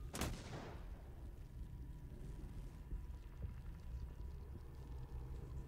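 A mine explodes in the tactical role-playing game Encased as a single sharp, loud blast at the very start, followed by a low rumbling tail and continuous background ambience.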